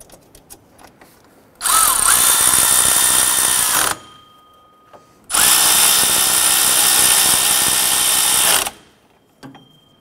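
A power tool tightens the pump bolts on a 2008-2012 Honda Accord 2.4L power steering pump, two loud sustained whirring bursts of about two and three seconds, close up, with small clicks and clanks between them.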